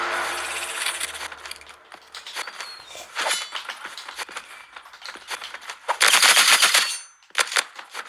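Rapid bursts of video game gunfire, including sniper shots, crackle in irregular volleys with a loud dense burst near the end, alongside faint clanks and footstep-like taps.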